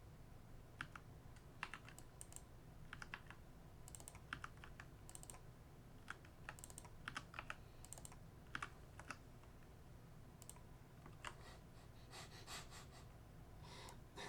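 Code typed on a computer keyboard for a programming puzzle: steady, irregular bursts of close key clicks that continue throughout, with soft breathing and no speech.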